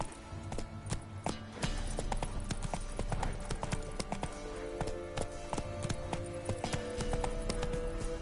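Roach the horse gallops in The Witcher video game, steady hoofbeats clip-clopping in a quick rhythm throughout, fairly close and continuous.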